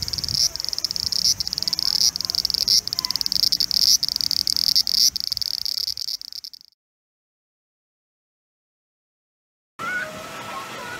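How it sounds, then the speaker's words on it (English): Cicadas in Japan shrill in a loud, steady, high-pitched chorus pulsing with faint rhythmic beats, cutting off abruptly into silence before a quieter outdoor ambience returns near the end. "you can hear them right now, the cicada."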